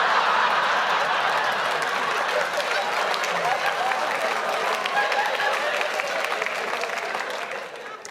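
A comedy audience bursts into loud, sustained clapping mixed with crowd noise that fills the room evenly, then tapers slightly at the end.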